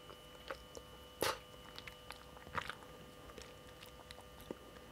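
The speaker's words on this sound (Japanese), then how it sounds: "ちょっと食べてみます。" Faint, soft chewing of almond tofu dessert with a slightly firm, agar-set texture, heard as a few scattered wet clicks and bites close to the mic over a steady low hum.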